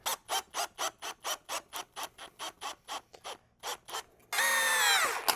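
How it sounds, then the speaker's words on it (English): Screw being driven into wooden gate framing, rhythmic rubbing rasps in repeated short strokes, close and moderate, then a sustained whining power-tool run at the end; no voices. "So I'm trying to screw it in more like this."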